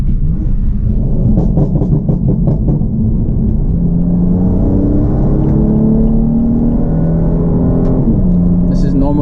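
BMW F80 M3 with a catless downpipe and MHD burble tune, engine revving up on a downshift to second with the windows down, a loud, steady, close rumble whose pitch sweeps upward, with some popping early on.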